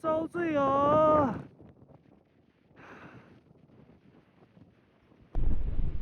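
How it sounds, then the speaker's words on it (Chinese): Strong wind sweeps through empty desert wilderness, buffeting the microphone in heavy, low gusts, strongest near the end. A voice speaks briefly at the start. "风太大了，荒无人烟的"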